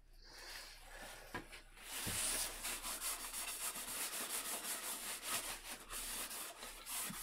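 Steady scratchy rubbing of a cloth or pad applying sanding sealer over wood, continuous and close, with a few sharper scuffs and no talking.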